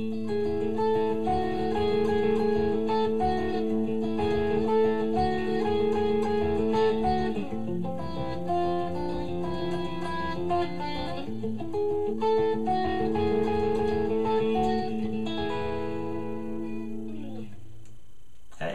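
Guitar chords picked in a steady, flowing pattern, full and close, carrying on for several bars before fading out at the end.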